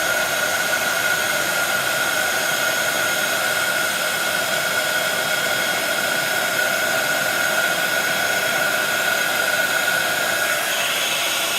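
Heat tool warming embossing powder on white cardstock from underneath: a constant, loud, whooshing fan-like blow with a steady hum, unbroken from start to finish and no voices.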